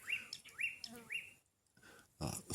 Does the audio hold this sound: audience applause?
no